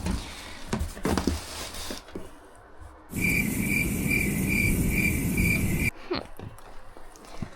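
Crickets being moved between boxes give a steady, loud high-pitched chirping trill that runs for about three seconds in the middle, with fainter rustling and handling noises before and after.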